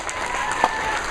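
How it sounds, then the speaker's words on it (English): Brief applause for volunteers at a closing ceremony, a dense, even patter of clapping lasting about a second. "Everybody give a big round of applause."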